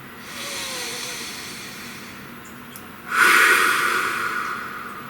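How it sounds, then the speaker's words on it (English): Two deep breaths, a slow inhale followed by a louder, rushing exhale through the nose and mouth, close and alone. "Please take a nice deep breath."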